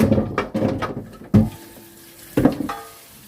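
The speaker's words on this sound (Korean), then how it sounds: "뼈를 찬물에 깨끗이 헹구어주세요." Beef bones are rinsed under cold running water in a sink, with splashing bursts of flow and knocks of bone against the basin coming in uneven spurts, close and fairly loud, with no talking.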